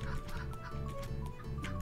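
Chickens in the video game Turnip Boy Commits Tax Evasion cluck in short repeated bursts over looping game music, fairly quiet and steady throughout.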